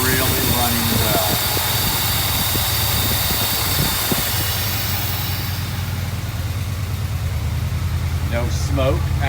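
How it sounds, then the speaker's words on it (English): A Mercedes 380SL engine runs steadily right after its first start, a continuous low idle hum close by with a brief rougher patch in the first seconds. "First turn of the key. And she is really running well."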